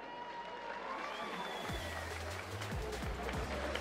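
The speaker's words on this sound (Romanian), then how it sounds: "Și încă un mare rând de aplauze pentru Cătălin Moroșanu." Applause from a crowd in an arena at a fight gala, a continuous broad clatter of many hands at a steady level, with low rumbling thuds and a few tonal sweeps sounding underneath.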